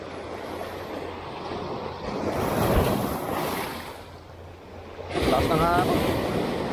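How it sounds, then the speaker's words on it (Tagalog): Strong ocean waves surge and break close by at the shore in Jeddah, with heavy wind buffeting the microphone and a louder crash near the end. "Lakas ng alon."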